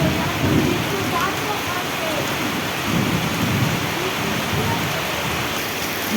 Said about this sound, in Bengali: কত সুন্দর বৃষ্টি হচ্ছে